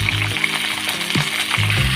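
Sliced pointed gourd with a small potato sizzling in hot oil in a pan, a steady close frying hiss throughout with a few low clatters as the pieces settle.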